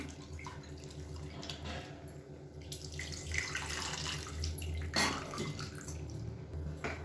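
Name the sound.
tamarind water being poured into rasam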